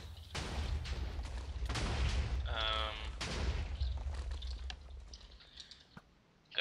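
Gunfire in a Minecraft multiplayer match on the Overcast Network rattles as a quick run of clicky, crackling shots, with a denser burst midway, all faint and close, over low background hum.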